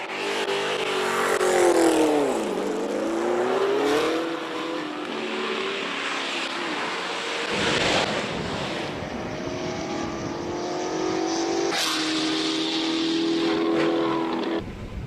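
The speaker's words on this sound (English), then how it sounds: "Jason also out on the track with a Ford Mustang." A Ford Mustang, rear-wheel drive, races up a hill-climb track at a King of the Mountain event in Cape Town, its engine roaring loudly and continuously as it revs through gear changes and sweeps past nearby.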